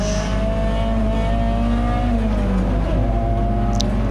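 A Peugeot 206 GTI race car engine drones loudly on a wet Donington Park circuit, its pitch sagging and stumbling partway through as it bogs after a missed upshift, then continuing under strain.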